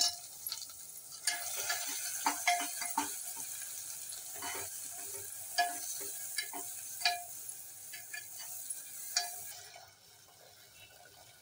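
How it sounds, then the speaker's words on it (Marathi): Ground coconut masala paste frying in oil for Konkani-style misal, a soft continuous sizzle broken by repeated scraping clicks of a spoon stirring in the pan, close and fairly quiet. "आपण हे वाटण तयार करू, ते तेलामध्ये परतून घेऊया।"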